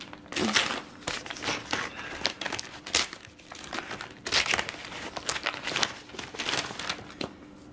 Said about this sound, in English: It's like a really well-wrapped package from the Alabama Booksmith.